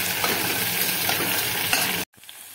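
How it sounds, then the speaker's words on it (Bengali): Whole carrots stirred in ghee inside a pressure cooker over medium flame, a loud, dense, close sizzle for about two seconds that cuts off abruptly to a faint quiet hiss. "এবারে গাজরগুলোকে একটু মিডিয়াম ফ্লেমে রেখে আমি নেড়ে নিচ্ছি"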